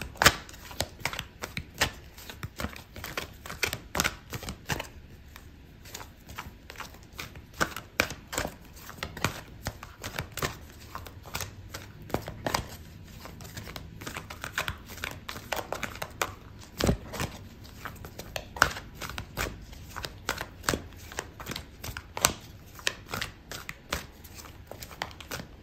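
Tarot cards are shuffled and drawn by hand close up, a long run of quick crisp riffles and soft slaps with no talk over them.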